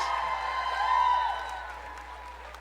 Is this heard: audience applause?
yes